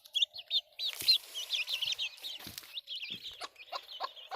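Hens cluck and chirp in a run of short, busy calls, including frizzle and naked neck breeds, close by and fairly loud with no talking.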